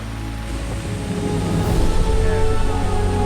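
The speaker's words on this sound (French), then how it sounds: "plusieurs petites cascades dévalent les rochers" Several small waterfalls rush down rocks beside a road through woodland in the Scottish Highlands, a steady broadband roar of falling water, close and continuous, rising slightly in loudness, with no voices.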